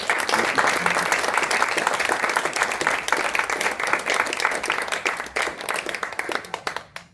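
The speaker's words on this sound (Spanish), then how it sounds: "un aplauso para Jesús." A congregation at a Catholic Mass applauds in church, sustained clapping from many people that gradually thins into scattered individual claps before fading out.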